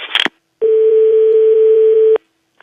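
A single steady telephone call tone rings for about a second and a half between brief bursts of other line noise, heard during a French phone call.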